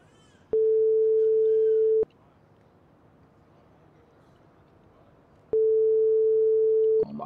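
A phone calling tone in a video game: two long, steady electronic beeps, each about one and a half seconds, separated by a few seconds of quiet.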